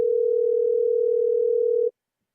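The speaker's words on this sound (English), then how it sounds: "All right, we're going to give Braxton a call." Telephone dial tone heard while placing a call, a single steady pure tone held for about two seconds before it cuts off abruptly into silence.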